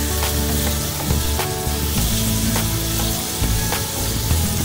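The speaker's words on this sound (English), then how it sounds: "cooking white onion with egg" White onion and egg frying in a pan give a steady, dense sizzle and crackle, close and continuous with no talking.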